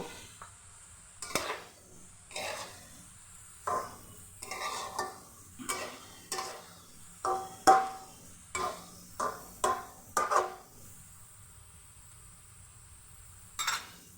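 Cauliflower fry being stirred in a pan, a dozen or so distinct scraping strokes spaced about a second apart over a faint background sizzle, with a quiet gap near the end.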